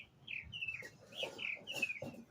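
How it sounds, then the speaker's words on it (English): Small birds chirp outdoors in a quick series of faint, high tweets, distant and quiet against low background noise. "You hear the birds?"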